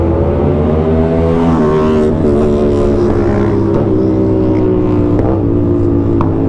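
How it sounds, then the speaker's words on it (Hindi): A motorcycle revving during a night ride, its loud exhaust droning steadily with a few faint crackling pops. "Backfire."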